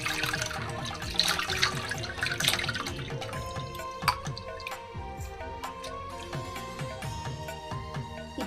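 Turmeric water poured over a Varahi Amman idol during ritual bathing, a steady close trickle and splash followed by scattered drips.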